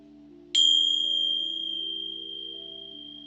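A pair of Tibetan Tingsha bells struck once, giving a bright, piercing ring that sustains and slowly decays on its own in a quiet room.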